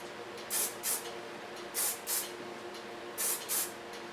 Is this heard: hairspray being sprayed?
yes